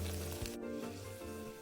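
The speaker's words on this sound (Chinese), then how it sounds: "油炸过程中，记得不停翻面，确保生坯受热均匀" Fish wontons wrapped in beancurd skin deep-fry in hot oil, a steady close sizzle with a brief soft knock partway through.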